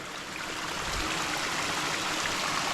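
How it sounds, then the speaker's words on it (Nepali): Continuous rushing of water flowing at a drinking-water spring source, steady and close, with no pauses or voices. "हाम्रो खानेपानीको मुहान चाहिँ यही हो।"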